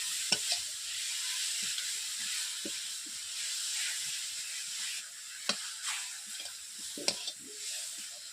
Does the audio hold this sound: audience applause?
no